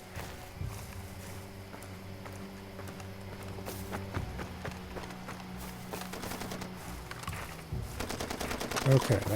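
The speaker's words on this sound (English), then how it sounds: "that gunfire you hear? That is your buddy fighting." Bursts of automatic gunfire ring out in the video game Far Cry 2 as an ally fights, rapid rattling volleys and scattered single shots at a moderate distance, picking up and growing louder toward the end.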